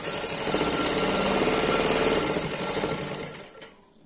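A sewing machine stitches along the edge of a baby frock in one continuous, fairly loud run of about three and a half seconds, then stops abruptly.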